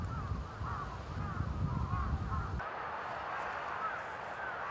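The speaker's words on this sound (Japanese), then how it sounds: "見てください、すごい数のカラスが空を飛んでますね。" Large flock of crows flying over and perched in trees across a residential neighborhood in Saitama, Japan, harsh caws and calls layered densely at middle distance, with a person talking over the noise.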